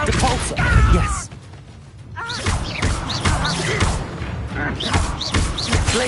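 Spell effects from the Hogwarts Legacy video game: a levitation charm followed by a forceful push spell, with whooshing magical bursts, thuds and crashes, loud and busy, partly under an excited voice.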